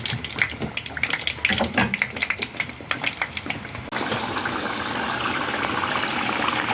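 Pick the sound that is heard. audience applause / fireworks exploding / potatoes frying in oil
potatoes frying in oil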